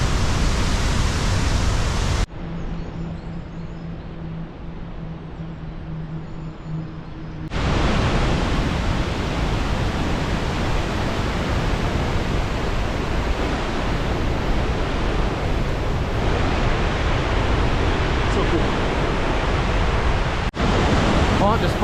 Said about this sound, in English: The road is wet here from overspray this giant waterfall.